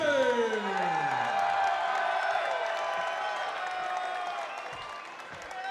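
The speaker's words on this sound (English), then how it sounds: "Thundering ovation from the crowd here" Crowd ovation for reigning featherweight champion Alex Gilpin at a Chosen Few Fighting Championships event, a broad roar of cheers and applause that holds steady, while a bright ringing tone sweeps downward over the crowd noise at the start.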